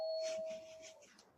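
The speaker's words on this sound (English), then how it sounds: "Just ring the doorbell." A doorbell chimes once, a clear bright tone that rings and decays over about a second, fairly faint and on its own.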